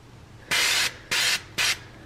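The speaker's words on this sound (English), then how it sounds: "now I'm just taking my spray and I'm gonna spray the tops of them." Cooking oil spray mists over food in an air fryer basket, three short loud hissing bursts separated by brief pauses.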